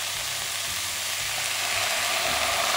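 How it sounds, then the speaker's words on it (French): Pigeon carcasses, browned in a pan, are deglazed with red wine, giving a loud, steady sizzle and hiss with faint stirring scrapes throughout. "Quand tout est bien rissolé, on peut déglacer avec du vin rouge."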